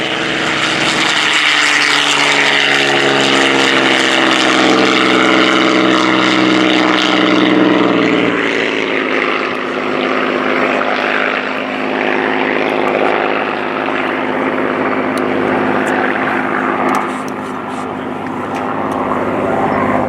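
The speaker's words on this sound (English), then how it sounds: "These World War II aircraft are preserved in fine condition as a living tribute." WWII propeller aircraft of the Battle of Britain Memorial Flight at RIAT 2018 drone loudly and continuously overhead, their engines making a steady roar that shifts in pitch as they pass.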